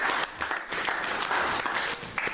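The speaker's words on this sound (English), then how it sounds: "Clap for Jesus." A church congregation claps for Jesus, a lively, close round of clapping with a few brief dips and swells over a couple of seconds.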